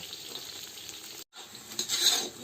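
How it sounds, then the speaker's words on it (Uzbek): Potatoes fry until golden in a pan, a close, steady sizzle with a brief cut in the middle, then swelling louder as the food is stirred. "Qizartirib qovurib olsak, ko'ngildagidek bo'ladi."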